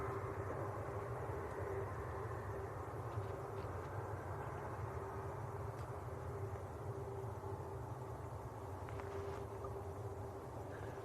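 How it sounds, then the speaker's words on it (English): A Jet2 airliner departs Leeds Bradford Airport, a steady distant engine roar and rumble that holds constant and low throughout without any talk. "we'll catch this Jet2 departing"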